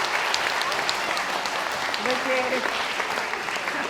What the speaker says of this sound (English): Can we give them a big round of applause?